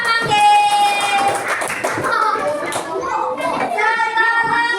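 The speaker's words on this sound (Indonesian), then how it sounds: "Tepuk tangan untuk kelompok buah manggis." Children in a classroom clap for a group that has just presented its mangosteen fruit craft, a short burst of scattered applause mixed with young voices chattering close by.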